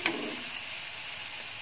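Steady bright sizzling of batter frying in hot oil in a wok, an even hiss throughout with a brief splatter at the start.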